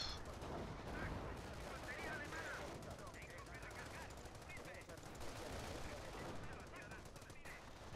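Distant battlefield gunfire in Company of Heroes, with rapid rifle and machine-gun bursts crackling continuously at a faint level, behind someone speaking Spanish.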